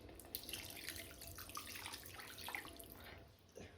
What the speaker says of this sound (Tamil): இப்போ நம்ம புளி தண்ணி ஊற்றுவோம்.